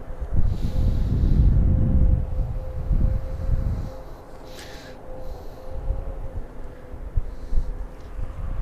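Outdoor wind at Starbase in Boca Chica, Texas, on a humid, cold day, a low rushing buffet of the microphone that is strongest early on, then eases to a softer gusty rumble.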